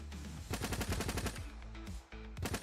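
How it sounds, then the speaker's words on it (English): Two submachine guns firing together in a video game under development, a dense rapid stream of loud shots with brief gaps, close and dominating throughout. "you can tell I'm shooting 2 SMGs right there"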